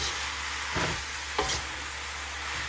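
Vegetables for pancit stirred in a pan over a steady sizzle, with two distinct scrapes of the utensil against the pan standing out.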